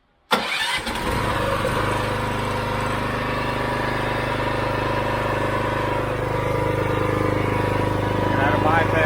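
A gas-powered roof pump engine starts up and runs steadily at half throttle, a loud continuous mechanical drone that holds for the rest of the clip.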